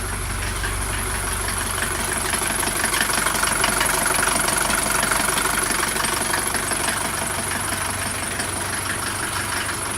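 A Mercedes-Benz 240D W123 diesel engine idles steadily on a cold morning, its close, even clatter and low rumble continuing without a break throughout.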